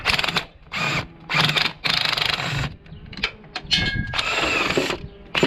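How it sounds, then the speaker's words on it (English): An impact gun removes bolts from a car during a Honda D15 engine removal for a K24/K20 swap, firing in several loud, close bursts of rattling hammering separated by short pauses. "now get your impact gun, take these bolts out"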